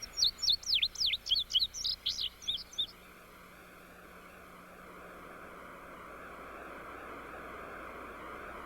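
Small birds chirp in winter in a rapid run of high, sharp tweets lasting about three seconds. A low, steady engine-like drone then rises and continues alone.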